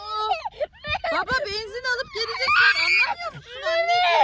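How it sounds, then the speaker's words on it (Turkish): A young child cries and wails in distress inside a car on a family road trip, with sobbing, whimpering bursts running nearly continuously and loud, close to the microphone. "Evet hala ağlıyor. Sesi geliyor duyuyorsunuz."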